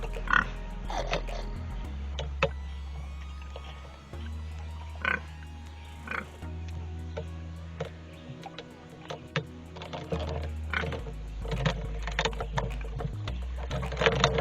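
Pigs grunt and squeal in short bursts over a steady low rumble, with scattered clatter nearby and occasional louder cries.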